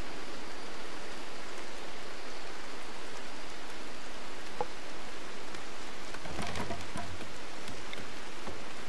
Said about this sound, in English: That's quite a rain.